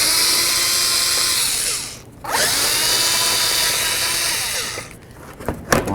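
Power drill whirring steadily as it backs mounting bolts out of an underbody shield on a 2009-2013 Mazda 3, close and loud, pausing briefly in the middle and ending with rattling clunks.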